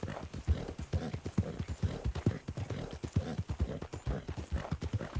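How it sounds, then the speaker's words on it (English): Horse hooves clip-clop in a steady, brisk rhythm in Red Dead Redemption 2, close and clear throughout, with a faint whinny in the mix. "That's one nice looking horse you got there."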